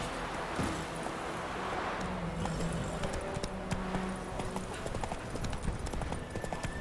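Horse hooves clip-clopping in a steady galloping rhythm in The Witcher 3: Wild Hunt, close and continuous with game ambience and a brief voice underneath.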